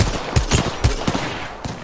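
Shotgun fire in the video game Apex Legends, six loud, punchy blasts in quick, uneven succession with a short gap before the last one.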